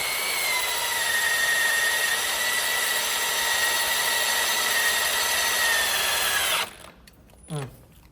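A Milwaukee M12 power tool whines loud and steady while driving into wood, then cuts off abruptly and spins down, followed by a brief thump and silence.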